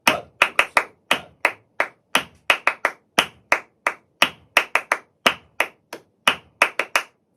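Flamenco palmas for sevillanas: sharp hand claps in a steady, syncopated pattern of groups, close and crisp, alone without talk or guitar.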